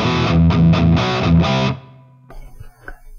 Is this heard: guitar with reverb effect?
yes